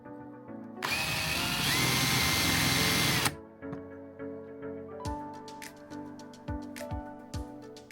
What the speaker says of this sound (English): I decided that the holes I pre-drilled wasn't large enough, so I've just enlarged them with I think it's a 10mm